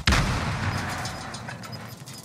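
A single heavy gunshot or artillery-like blast in Call of Duty: Modern Warfare, loud and close at the start, then a rumbling decay with faint game ambience.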